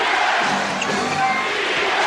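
An arena crowd of more than 17,000 at an NBA Finals game between the Bulls and Lakers keeps up a steady, dense roar of cheering for the home defense, loud and continuous throughout.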